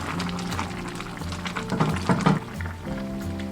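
A pot of mustard greens soup with red pepper bubbles and simmers, with soft, uneven gurgling and liquid sloshing up close, fairly quiet and without talk.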